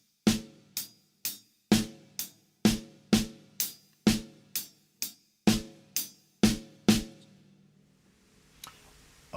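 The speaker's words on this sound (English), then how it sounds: "So if we play a paradiddle like this" A drummer plays a paradiddle split between hi-hat and snare drum in a funk groove, an even run of crisp, close strikes alternating sharp and fuller accents, then stopping into near silence.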